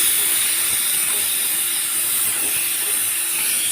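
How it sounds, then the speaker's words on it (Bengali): A pressure cooker holding dal on a kitchen stove lets off its whistle as a steady, loud, hissing rush of steam that holds unbroken for the whole stretch, heard close. "এটার মধ্যে ডাল বসেছি তো তাই সিটি পড়ছে"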